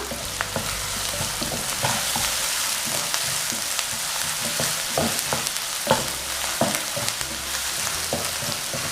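Onions with ginger-garlic paste sizzling steadily in a pan for mushroom masala, with a continuous loud fry hiss and repeated scraping stir strokes throughout, no voices.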